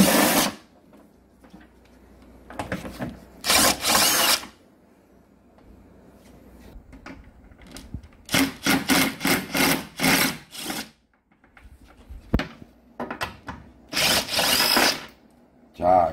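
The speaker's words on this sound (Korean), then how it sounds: "양쪽으로 10mm 볼트 두 개씩 네 개를 풀어주는 거예요" A power tool, likely a drill, runs on 10mm bolts of a Victoria Nicky 125 scooter body cover in short repeated whirring bursts with quiet gaps between, close up, sometimes with a voice in between.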